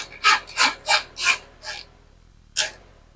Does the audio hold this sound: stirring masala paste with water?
no